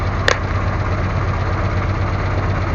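A 1951 Willys CJ3A engine idles steadily and close, a continuous low rumble with a brief click near the start.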